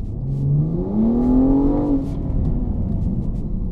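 A BMW M235i's turbocharged inline-six engine revs up, its pitch climbing smoothly and loudly before dropping back to a steady idle rumble.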